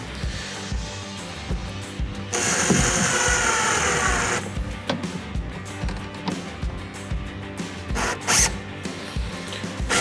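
A screw is driven into a kayak hatch on a Hobie Mirage Passport 12.0, giving a close, steady whirring drive burst followed by short ratcheting and clicking bursts, heard alone without speech.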